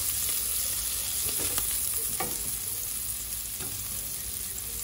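Curry coconut shrimp sizzle and fry steadily in a hot pan, a dense continuous crackle with a few soft stirring scrapes, close and loud, with no talking.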